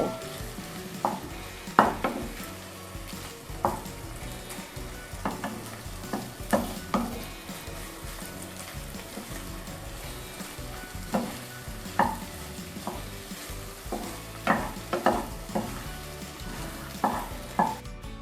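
Steady sizzling of pork and egg stir-frying in a hot wok, punctuated by repeated scraping and clanking strokes of a spatula stirring the pan.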